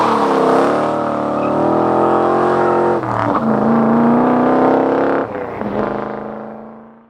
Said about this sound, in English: We're going to see how much power our 467 cubic inch Big Block Chevy makes